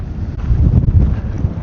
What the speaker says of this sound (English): the wind is crazy through So here. we're gonna have to speak loud